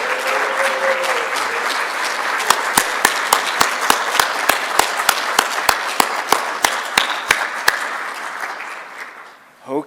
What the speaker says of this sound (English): Please rise and give these guys a round of applause.